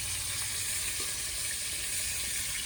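Fish heads frying in hot oil for a lentil dish, a steady dense sizzle filling the whole moment without pause, close and fairly loud.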